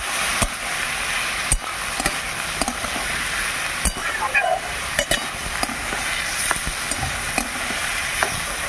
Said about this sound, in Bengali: অল্প করে কষে নিলাম